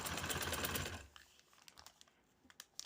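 A sewing machine stitching a trouser runs in a fast, dense rhythmic whir for about a second, then stops, leaving only a few soft taps and handling noises.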